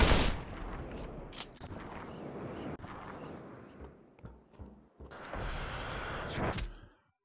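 Gunshots in the VR shooter Population: One, a run of sharp cracks and bursts over several seconds, some near and loud, others fainter, mixed with a busy game ambience with no talk.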